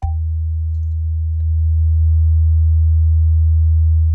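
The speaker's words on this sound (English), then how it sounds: "Here is 80 hertz." A steady, deep 80 hertz test tone hums continuously through three 13-inch underseat subwoofers, loud and unwavering, with a faint click at the start.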